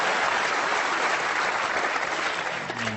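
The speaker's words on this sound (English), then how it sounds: "the Ali Carter camp giving him a terrific round of applause for that shot" An audience at the 2012 World Snooker Championship applauds a shot, producing a dense, steady wash of clapping from a large crowd at moderate distance. It begins to fade near the end as a voice starts.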